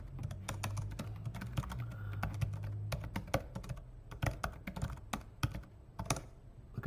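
Rapid bursts of keystrokes as a password is typed on a computer keyboard, crisp close clicks in quick irregular runs, loudest and most spaced toward the end, with no voices over them.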